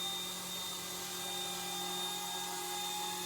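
An Eachine E120 BO-105 RC toy helicopter flies indoors, its rotor and small electric motor producing a steady, close, high-pitched whine that stays level throughout.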